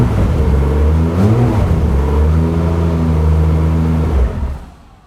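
A loud, close engine of a 1000hp Toyota A90 Supra revs up and holds a throaty, rising growl for several seconds, then quickly fades away as the throttle drops.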